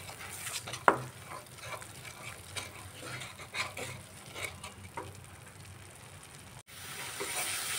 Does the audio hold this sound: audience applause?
no